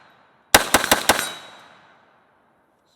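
A PSAK GF3 12.5-inch pistol fitted with a muzzle brake fires four rapid, loud shots outdoors, each sharp crack followed by a ringing echo that fades over about a second.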